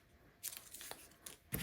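Clear vinyl is cut for a zippered triangle pouch, with a few short crisp snips and crinkles in quick succession, close and fairly quiet, with no talk.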